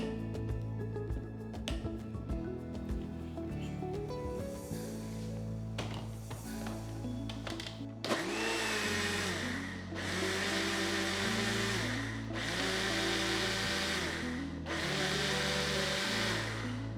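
An electric blender beats eggless mayonnaise with a steady whirring motor drone that then pulses in repeated on-off bursts of roughly two seconds each, loud and close.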